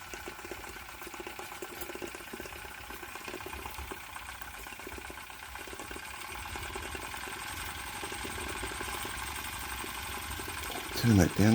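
Retrol SE-03 gas-fired vertical steam engine with vertical boiler running, a soft rapid rhythmic chuffing and mechanical clatter held steady at moderate level, with a brief louder burst near the end; someone talks over it.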